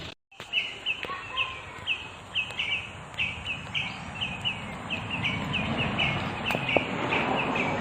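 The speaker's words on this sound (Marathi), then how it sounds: "आपल्याला हा जो आवाज येत होता यास कचनेर पक्षी या कचनेर पक्ष्याचा हा आवाज आहे" A kachner bird calls over and over in a fast, steady series of sharp repeated notes, loud and fairly near, against a low background rumble, at a resort by Koyna Dam.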